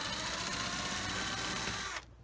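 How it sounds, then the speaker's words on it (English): A power drill driving into wood whirs loudly and steadily close by, a high mechanical whine that runs for about two seconds before cutting off abruptly. "Reverse first, and then drill down."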